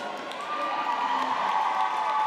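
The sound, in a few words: roller derby crowd cheering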